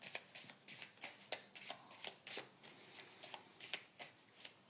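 A large deck of cards is shuffled up close, giving a rhythmic run of crisp riffling bursts, each a quick papery flutter, repeating steadily and evenly spaced.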